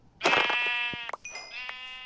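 A sheep bleats loudly and close in a video game, one long wavering call followed by a second, quieter bleat.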